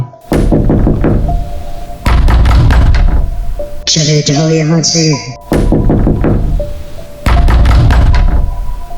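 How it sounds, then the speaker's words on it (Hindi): Loud banging on a bedroom door in a Hindi horror story, heavy repeated thuds in bursts separated by a short gap, with a voice speaking between the bursts. "मेरे कमरे का दरवाज़ा ज़ोर ज़ोर से खड़क रहा था।"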